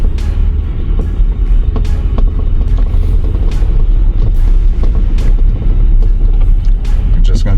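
A 2011 Infiniti QX56 SUV out on its first drive, giving a steady, loud engine rumble and road noise that stays constant throughout, with occasional light clicks and knocks on top.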